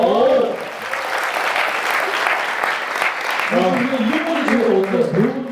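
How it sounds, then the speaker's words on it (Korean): A Korean talk-show studio audience claps in a sustained burst of applause. A host's voice is heard briefly at the start, and talk resumes near the end over the fading clapping. "여러분 박수 한번 부탁드립니다."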